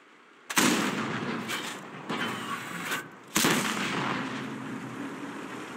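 Tank guns firing in World of Tanks, two heavy booming shots a few seconds apart, each followed by a long rumbling decay over steady engine-like background noise.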